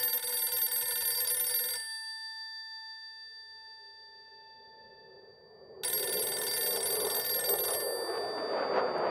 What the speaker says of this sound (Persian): اومد زنگ تلفن صبح زود یک شنبه فقط مادرم میتوانست باشد